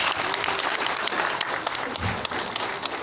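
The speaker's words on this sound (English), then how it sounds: "Let's give us a round of applause," An audience at a Google Cloud Next Extended 2018 keynote in Kuala Lumpur breaks into steady, dense applause that fills the room throughout.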